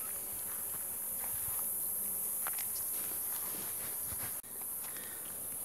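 Honey bees buzz steadily around an opened hive during an inspection of a weak colony. A dense, continuous outdoor hum with occasional closer passes and faint handling noises.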